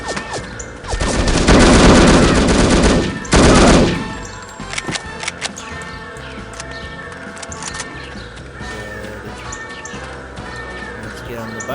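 A big gun fired in the video game No One Lives Forever: a loud, dense burst of rapid shots lasting a few seconds, then scattered clanks and lighter effects under quiet game background.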